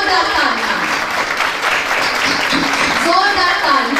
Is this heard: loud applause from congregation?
yes